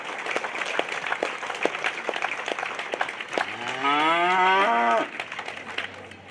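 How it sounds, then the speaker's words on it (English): Audience applause at a junior livestock show, a steady patter of clapping in an arena, with a steer bellowing a long loud moo partway through. "Let's give him a big, big round of applause."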